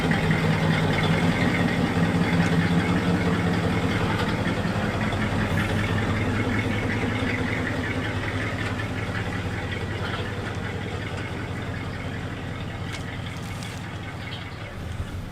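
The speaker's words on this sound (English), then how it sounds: "we get to hear it come alive without a muffler" Old 1960s Cadillac, just revived after 30 years in storage, running with no muffler: a loud, continuous raw engine roar, close and steady throughout, slowly easing slightly in level, with no voices.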